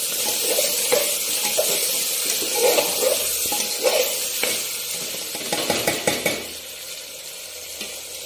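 Mutton curry is stirred in a pan, with a continuous sizzle and repeated scraping strokes of a spoon against the metal, close and fairly loud, with a few sharper clinks near the end.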